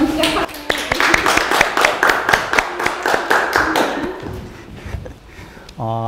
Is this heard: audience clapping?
yes